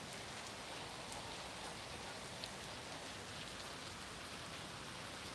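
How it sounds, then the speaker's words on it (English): Hard rainfall outside near a backyard fire pit after dark, a continuous close-up wash of drops striking surfaces with a steady level and no voices. "I wonder if you guys can hear the rain through the microphone."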